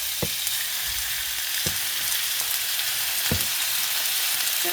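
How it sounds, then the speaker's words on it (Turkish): Julienned chicken strips sizzling in a hot pan for a vegetable stir-fry, a steady close crackle broken by a few soft clunks from a stirring utensil. "Ardından jülyen şekilde doğranmış olan tavuk etlerimizi tavamıza ekliyoruz."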